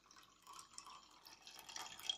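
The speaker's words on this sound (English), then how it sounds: "Pour the water in there" Water trickles and splashes into the base chamber of a Moka coffee pot, a soft, steady pouring sound close by with slight dripping near the end.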